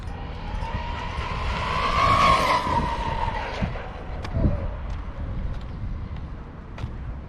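A Turnigy LiPo-powered RC car whines up to speed on a road, its motor pitch rising and then falling away, with tyre scrubbing and a few bumps over steady outdoor noise.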